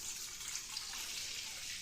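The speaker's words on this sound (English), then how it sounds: "So now we're going to take our mixture. We're going to dump our water in." Hot tap water pours into a bowl of no-knead bread mixture, a steady close splashing rush that runs unbroken for a couple of seconds, fairly quiet and with no talk.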